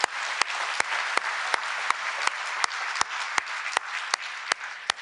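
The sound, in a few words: audience applause at white coat ceremony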